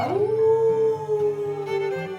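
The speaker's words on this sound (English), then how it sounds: "Suddenly, someone howled." A long, loud howl sound effect in a read-aloud children's story, rising and then holding a steady wavering tone for over two seconds, heard alone.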